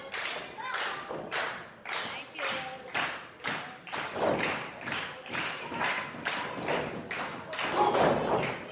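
Wrestler slammed onto the ring mat at a live wrestling show: a run of heavy thuds and claps in a steady rhythm, close and punchy, over crowd noise and commentary.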